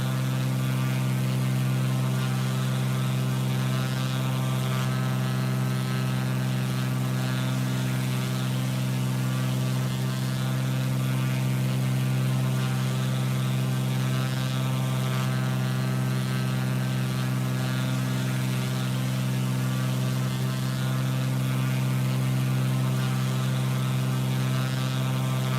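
Carenado Cessna 182 piston engine running at 70% power in flight in Microsoft Flight Simulator, a constant droning propeller hum with strong steady harmonics, unbroken and even throughout.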